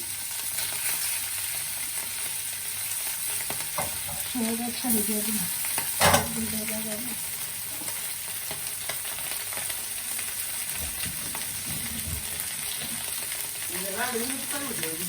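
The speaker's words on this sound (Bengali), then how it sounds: "কড়াই গরম হয়ে গেছে দিয়ে দিলাম মাছ মশলা ভাজা নিতেছে" Fish and spices sizzle steadily in a hot kadhai, a continuous hiss of frying with a clatter of stirring, while a person speaks briefly at intervals.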